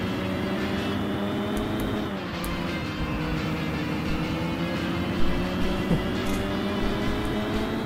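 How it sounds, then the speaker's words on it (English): Engine of a Mazda Savanna RX-3 GT in the racing game Sega GT 2002, a steady droning engine note held loud and close throughout with slight pitch shifts, no talking over it. "Interesting engine noise this car has."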